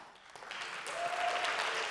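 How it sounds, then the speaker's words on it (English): Audience applause at a startup demo day in a grand venue, a brief burst of clapping that swells slightly over about two seconds, fairly soft and distant. "round of applause for everyone who made it here today"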